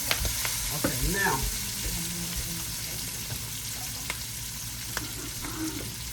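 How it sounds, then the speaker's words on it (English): Cabbage stir-fries in a pan with turmeric, a steady close sizzle with occasional stirring scrapes and clicks, while a voice speaks briefly near the start. "So trying to do a little stir fried cabbage here"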